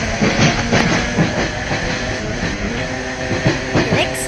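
A heritage tram runs through a city circle route in a Roblox game, a steady rumbling rail hum with rhythmic clicking wheel beats and faint hiss, close and continuous throughout.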